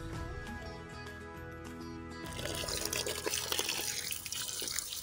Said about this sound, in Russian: нужно его для начала размочить просто холодной водой